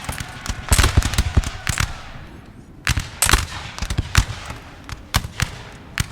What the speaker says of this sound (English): No, they're firing at us now